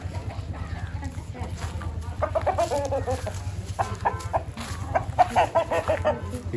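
Chickens and a rooster cluck in a village yard during a Pongal hometown visit, with repeated clucks building over steady low background noise and people talking nearby.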